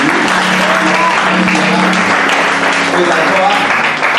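A church congregation at a Bible institute student certification ceremony claps in praise of the Lord. Dense, loud applause carries on steadily throughout, with voices talking underneath.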